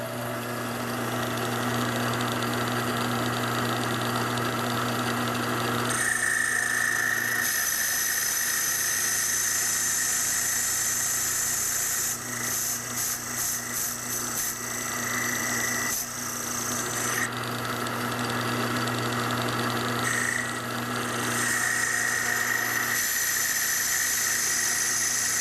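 A Q Lathe Model B shaves a ferrule tip on a cue, making a continuous high-pitched squealing whine over a motor drone, loud and close. The pitch and texture shift as the cut changes, and no one talks.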